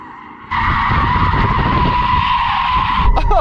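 A Porsche Cayenne GT's tyres skid and squeal loudly in a steady, sustained howl while the SUV does donuts, lasting about two and a half seconds before cutting off abruptly.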